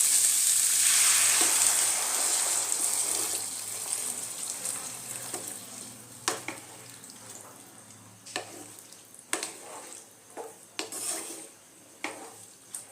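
Water poured into a pan of chickpeas and potatoes fried in spices sets off a loud burst of sizzling and steam hiss that gradually dies down, followed by scattered clinks and scrapes of a spoon against the pan.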